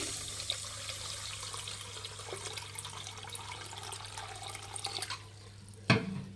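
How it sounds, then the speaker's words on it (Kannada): Water runs steadily into a wide pan of sugar, a continuous close splashing pour that ends abruptly with a brief knock of the vessel. "ಒಂದು ಅರ್ಧ ಲೀಟ್ರಷ್ಟು ನೀರು ಹಾಕಿ"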